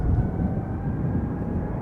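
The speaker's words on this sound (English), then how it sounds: "Pulling up already is the 777-300 ER going to Lima in Peru, KLM Flight 743" A KLM Boeing 777-300ER airliner bound for Lima takes off at Schiphol, a steady, fairly distant low engine roar holding level throughout with no voices.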